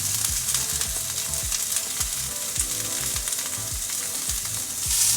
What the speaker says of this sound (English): just let the hot oil coax out the flavors. And then we toss in the carrots and the bamboo shoots